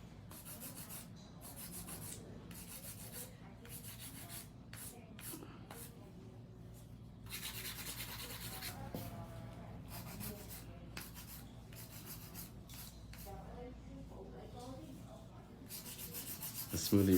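Acrylic nails are hand-filed smooth with a nail file, a soft, close, repeated rasping of quick strokes in bursts, with occasional quiet talking underneath.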